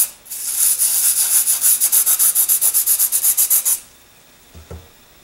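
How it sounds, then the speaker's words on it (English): Sandpaper lightly breaks the edges of a fiberglass high-power rocket tube in about 16 quick, even rubbing strokes over roughly four seconds. The strokes are close and fairly loud, followed by near silence and one soft knock. "I'll very, very lightly break the edges with a little bit of sandpaper so I don't cut myself on the fiberglass"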